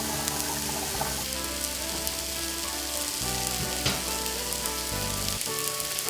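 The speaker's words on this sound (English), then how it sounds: "Get them on the griddle is what I'm using, and we've got it set at about 350" Chicken patties cook on a griddle set at about 350, giving a steady moderate sizzle and crackle with a faint underlying hum, no talking.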